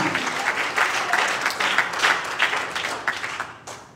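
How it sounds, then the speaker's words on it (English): A church congregation claps hands in a lively burst of applause lasting a few seconds, close and fairly loud before tapering off. "When you clap your hands to the Lord,"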